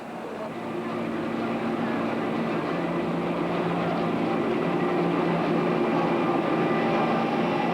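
Inside a crowded moving train: a steady broadband rumble with a constant low drone that builds slightly at the start and then holds evenly, with faint chatter from passengers mixed into the background.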